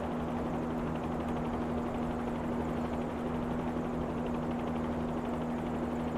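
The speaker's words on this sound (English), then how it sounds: "There's our helicopter." A Bell 47G helicopter's steady rotor drone and engine whine fill the whole stretch, loud and continuous, with a strong low hum underneath.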